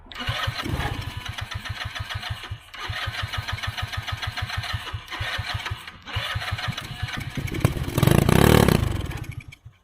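A cheap go-kart's small engine pulls and sputters through repeated starting attempts, each a rapid chugging run broken by pauses, then catches with a louder, rougher burst near the end, close and loud.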